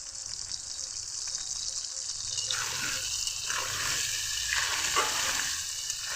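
Potatoes fry in a pan with turmeric and salt over a low gas flame, a steady close sizzle with occasional stirring scrapes, no talking.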